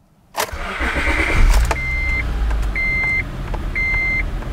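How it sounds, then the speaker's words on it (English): A car engine cranks and catches, then settles into a steady rumbling idle while a few short electronic beeps repeat in the background. "when I start the car up"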